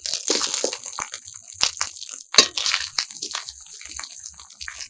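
Chopped raw hog plum hits a hot pan with fried ginger-cumin paste, giving scattered crackling sizzles and clattering bursts, fairly close and moderately loud, with no talking.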